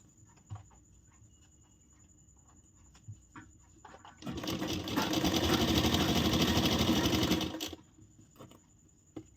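A sewing machine runs a continuous burst of stitching on a princess-cut blouse, a loud, even, rapid whir lasting a few seconds after quiet handling noises, then stopping abruptly.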